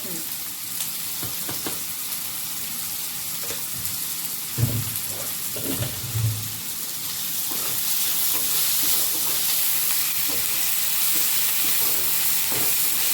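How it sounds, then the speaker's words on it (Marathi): Onion sautéing in a pan for a jackfruit vegetable dish, giving a steady frying hiss that grows louder toward the end, with a couple of dull knocks from stirring early on. "चांगला परतून घ्यायचा लालसर असा कच्चा नाही ठेवायचा कांदा"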